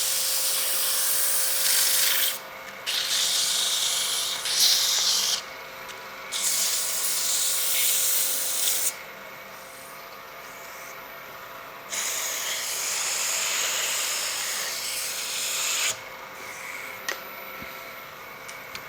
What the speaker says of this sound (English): Sand it just a little bit.